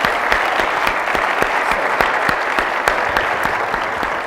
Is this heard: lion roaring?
no